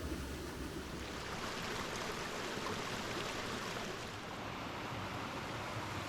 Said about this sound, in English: nearly the entire walk is flanked by Gill Brook, complete with shallow rapids,